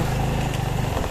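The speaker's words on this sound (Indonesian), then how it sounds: "Motornya kenapa ya motornya?" A motorcycle engine runs steadily and close by on a trip through a mountain village in West Suli, giving a loud, even low drone with no break and no voices over it.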